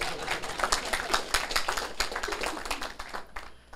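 Audience at a Taiwan Civil Government political lecture clapping in a room, a ragged burst of claps that thins out toward the end.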